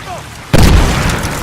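A sudden heavy boom of a video game grenade explosion in Medal of Honor Warfighter bursts in after a quiet moment, loud and deep, its rumble trailing off slowly.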